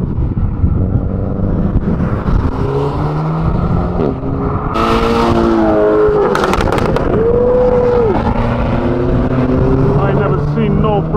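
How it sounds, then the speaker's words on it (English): A tuned Cadillac leaving the TRAX show at Silverstone rumbles past with loud exhaust pops and sharp bangs over engine drone and crowd noise, a burst of cracking reports in the middle of a busy roadside scene. "Freaking caddy pop and bang like that."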